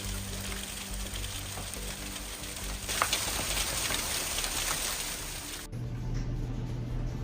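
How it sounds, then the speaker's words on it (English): Hail from a strong storm in northeast Massachusetts pours down as a dense, steady hiss of pelting ice, loud and continuous with a brief change in texture near the end. "Northeast Massachusetts is hit by hail as a strong storm system moves through"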